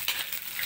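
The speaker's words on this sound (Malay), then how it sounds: "Kita kacau-kacau untuk kita goreng sampai masak." Petai beans still in their skins frying and being stirred in a pan, a soft steady sizzle with faint scraping, no talk.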